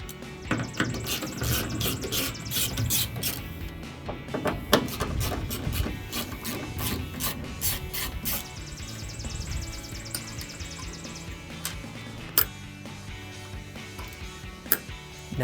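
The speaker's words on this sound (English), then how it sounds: "Then we'll take our T15 socket and extender and remove those." T15 Torx screws being backed out with a socket and extender from the tail light housing of a 2019-2025 Sierra 1500, heard as close ratcheting clicks and metallic scraping in bursts, then quieter, sparser clicks and a few sharp taps toward the end.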